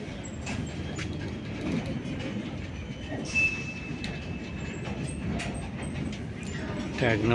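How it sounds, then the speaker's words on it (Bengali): Goods train pulling out from platform one at a station on the Bankura–Howrah line, a steady low rumble of rolling wagons with faint metallic squeals and occasional clanks, continuous and moderately distant. "এক নম্বর প্ল্যাটফর্ম থেকে মালগাড়ি ছাড়ছে।"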